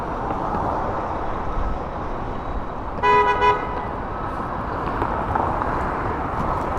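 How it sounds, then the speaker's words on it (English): A car horn honks once in Toronto city traffic on a winter morning, a short loud blast over a steady wash of street noise. "Who's honking?"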